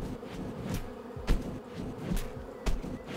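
In the video game Holomento, bees give off a continuous buzzing drone over faint background noise, with a few soft clicks scattered through it.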